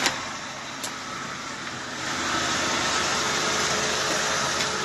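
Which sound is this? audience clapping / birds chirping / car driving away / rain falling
car driving away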